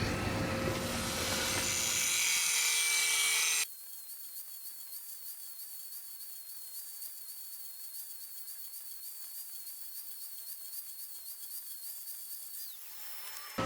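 A John Deere RX95 mower blade is sharpened with a loud, harsh grinding rasp for a few seconds before it cuts off abruptly. A thin, steady whine from the spinning tool follows, then fades out.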